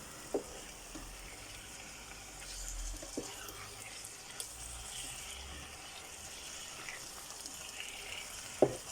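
Steak meat browning in a frying pan for a homemade New Zealand steak pie, a faint steady sizzle with a few sharp clinks or taps, no voices.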